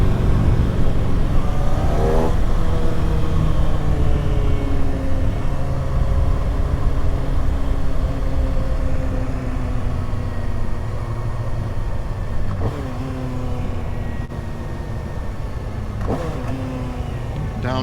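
A 2021 Kawasaki Ninja ZX-6R 600cc sportbike engine runs loud and close, rising through the revs in repeated pulls with gear shifts and downshifts breaking the pitch sweeps, under steady wind noise.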